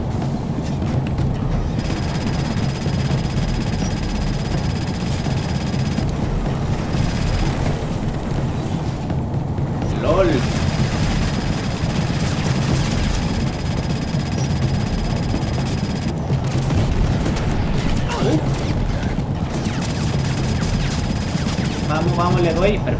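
Sustained gunfire in the PC shooter Crysis Warhead, a dense steady barrage of shots and bursts over game engine noise, with someone talking over it throughout.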